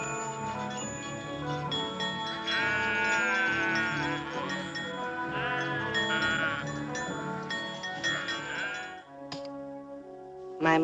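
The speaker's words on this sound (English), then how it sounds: "And he sent me to herd the sheep home." Several sheep bleating repeatedly in a wavering chorus over background music, the calls rising and falling across the whole stretch, with a louder bleat toward the end.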